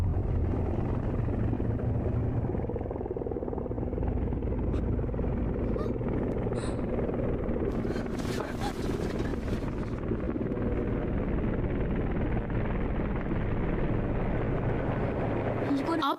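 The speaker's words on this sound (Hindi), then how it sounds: "हेलीकॉप्टर।" Steady low rumble of a helicopter passing overhead, loud and continuous throughout, with a brief burst of noise midway.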